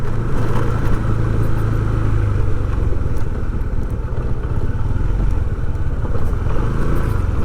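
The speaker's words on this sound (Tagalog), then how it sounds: "May mga motor dito." Motorcycles and other road traffic rumble along an access road near an airport, a steady, loud blend of engine drone and clatter with no clear individual pass-by.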